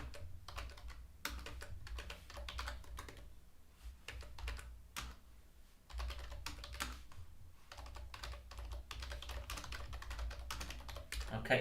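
A message is typed on a computer keyboard in brisk, quiet bursts of dense keystrokes separated by short pauses, with no talking.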